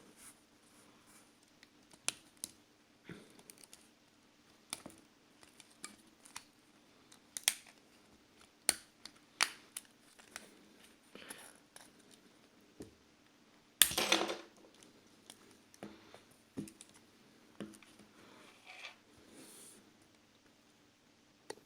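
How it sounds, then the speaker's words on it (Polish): Front housing pried off a 2006 Sony Ericsson K800i phone during disassembly: scattered small plastic clicks and scrapes, close and quiet, with one louder crack partway through. "Teraz ściągamy całą obudowę przednią wraz z korpusem na"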